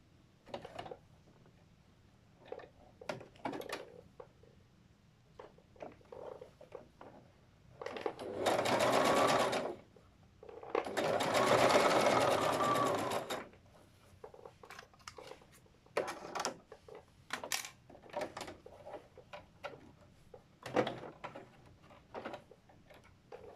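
A sewing machine stitches a folded petticoat seam in short, intermittent bursts of rapid mechanical clatter, with two longer continuous runs in the middle, separated by quiet pauses and light ticking handling sounds.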